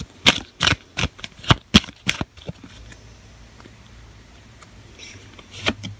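Oracle cards riffled and handled in a series of quick, sharp flicks and snaps over the first two seconds, followed by softer shuffling and a brief card snap near the end, close and alone.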